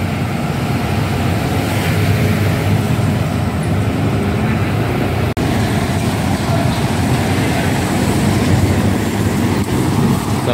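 A Mercedes-Benz OH 1521 bus with a Cipta Karya body, the ALS 144 on the Medan–Bandung route, arriving at the ALS ticket office in Palembang: a loud, steady diesel rumble and drone that holds without a break throughout.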